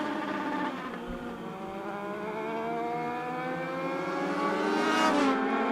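A race car crosses the finish line at Charlotte Motor Speedway during the Summer Shootout, its engine whining through rising and falling gear pitches as it passes, loud and sustained with no talk.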